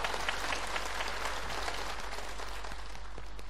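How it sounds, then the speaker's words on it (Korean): A studio audience applauds as married couples walk onto the stage at a women's day TV variety show; dense, steady clapping fills the room continuously, moderately loud, with no voices. "자, 우리 박수로 맞이합시다."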